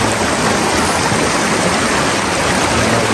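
Floodwater rushes after heavy rain in a steady, loud, broadband roar that holds evenly throughout with no pauses.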